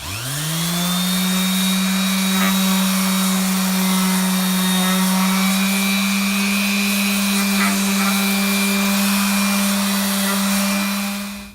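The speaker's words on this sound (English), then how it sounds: "Now a little final sanding before we drill the 2 holes" A power sander whirs steadily and loudly on wood for several seconds, a continuous motor hum that spins up at the start and holds constant.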